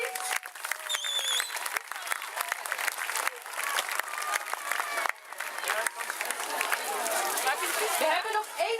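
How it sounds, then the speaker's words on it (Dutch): Sustained audience applause fills the hall at the close of a school production of The Lion King musical, a dense crowd clapping steadily with some cheering and murmured voices mixed in throughout. "Ook een groot applaus voor alstublieft."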